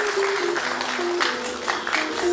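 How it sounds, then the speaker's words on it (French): An audience at a football federation election event applauds as a list member is introduced, moderate clapping in a room with music or tones beneath and some crowd murmur. "Recevez, mesdames et messieurs, avec des applaudissements, Madame Mana"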